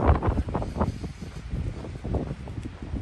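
Gusty wind buffets the microphone outdoors on a cold trail hike, rumbling low and uneven across the whole stretch.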